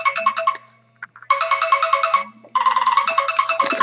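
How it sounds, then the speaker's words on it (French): A mobile phone ringtone plays in loud, repeated bursts of melodic electronic notes, with two short gaps before the tune restarts, heard close and alone. "Mon téléphone qui sonne"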